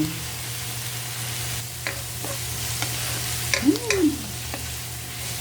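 Shrimp hit a hot pan for pansit bato and are stirred, giving a soft sizzle under a steady low hum, with a few light scrapes of stirring.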